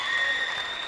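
Crowd applauding at a college basketball game between Arlington Baptist University and Pensacola Christian College, a steady, loud wash of clapping filling the whole moment with no pauses.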